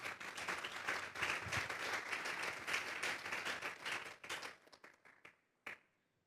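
A church congregation claps loudly and steadily for about four seconds, then the applause thins to a few scattered claps and dies away.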